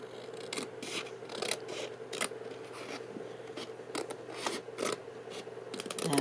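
Scissors or a cutting tool snip through card for a table centerpiece, with repeated crisp cuts and rasping over a steady low hum, close and fairly quiet.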